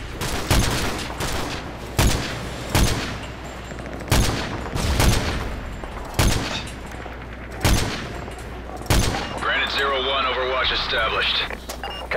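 Sharp, loud rifle shots crack at intervals of roughly one to two seconds in Call of Duty: Modern Warfare 3, each followed by a short rumbling decay over a steady low battlefield hum, with whining electronic effects near the end.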